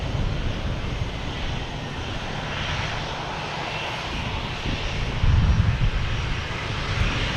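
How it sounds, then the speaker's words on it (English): An Alaska Airlines plane arriving from Seattle at Boston Logan Airport gives a continuous broad engine roar that swells slightly louder toward the end, with no talk over it. "We have Alaskan Airlines coming in from Seattle."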